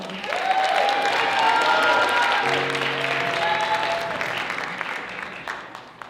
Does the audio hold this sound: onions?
no